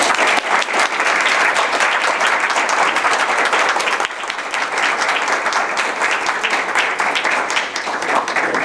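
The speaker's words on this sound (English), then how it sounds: "let's give her another round of applause" An audience at a Toastmasters club meeting claps steadily, a full dense round of applause that holds at a constant level, with a brief dip midway and no speech over it.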